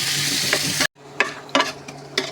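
Chopped onions fry in hot oil with a loud, dense sizzle that suddenly cuts out, then returns softer, broken by several sharp bursts of spluttering and scraping as the pan is stirred.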